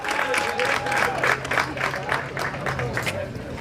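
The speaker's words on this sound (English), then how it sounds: "Y'all give her an extra round of applause for everything she's done up here today." A crowd at a bass fishing tournament weigh-in applauds a woman with a warm, sustained round of clapping, heard close, while someone speaks over it on a loudspeaker.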